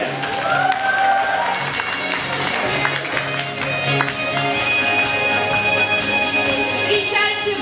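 Audience applause at a school graduation ceremony fills the space as diplomas are handed out, a dense, steady wash of clapping from a crowd with some voices mixed in throughout.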